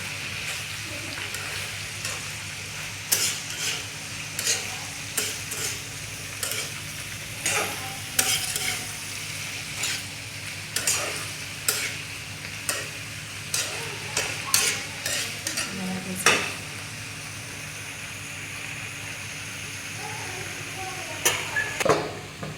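A spoon stirs garlic, ginger, onion and cumin frying in a pan, steady sizzling throughout with repeated scraping strokes at an irregular rhythm, close and moderately loud.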